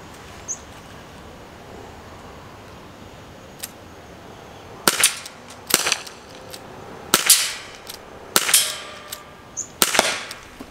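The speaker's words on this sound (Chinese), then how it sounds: "看看这一轮子弹能不能给它打下来" Sharp, dry cracks from an Aiesoft WG708 2.5-inch CO2 gas blowback revolver firing at cans outdoors, six shots spaced about a second apart after a quiet stretch, each with a short metallic ring, no talking.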